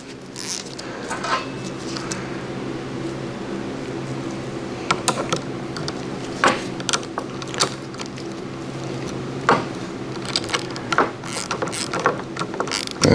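A ratchet snugs a nylon lock nut onto a caster for a Kubota BH92 backhoe rolling cart, making a steady run of close, light clicking with scattered sharper ticks throughout.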